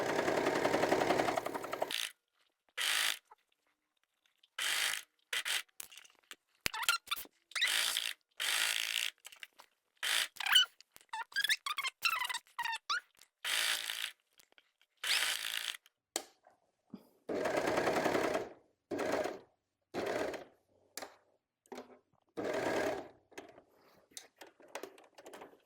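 A serger runs in repeated bursts of rapid mechanical stitching, starting and stopping throughout with short silent pauses between runs.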